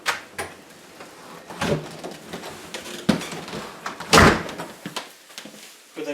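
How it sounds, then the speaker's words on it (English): A door with a newly fitted bottom sweep closing tight against the floor, with a few light knocks and scuffs before one loud, solid thump and a brief rattle afterwards. "That should allow the door to close all the way."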